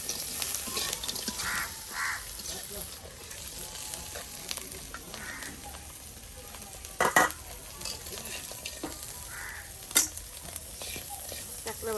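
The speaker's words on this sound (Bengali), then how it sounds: "এই যে কাঁকড়া ভাজি দেখুন তৈরি হয়ে গেল" Crab frying in oil in a pan in a village kitchen in Bangladesh gives a continuous sizzle, broken by a few sharp metallic scrapes of stirring. No one speaks.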